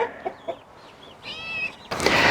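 A hen being placed onto a clutch of hatching eggs gives a few short, close clucks, then a drawn-out squawking call, followed by a burst of loud rustling and flapping.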